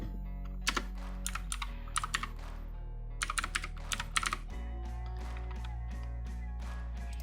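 Rapid computer keyboard typing in bursts of clicky keystrokes, close and fairly loud, with pauses between flurries over a steady low background hum, while creating a folder during BlueStacks setup on a PC.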